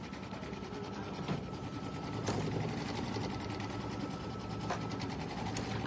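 A sewing machine tacks down a mug rug with a steady, continuous mechanical whir that runs close and even throughout, with no pauses.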